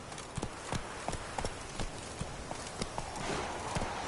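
Horse hooves galloping in The Witcher 3: Wild Hunt, a steady, fairly quick clip-clop rhythm of close hoofbeats over a continuous outdoor wash of wind and ambient noise, with no talking.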